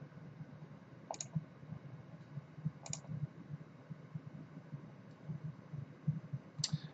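Computer mouse clicks on a desk while working in inLab dental design software, a handful of sharp, faint single clicks spaced a second or more apart over a low steady hum.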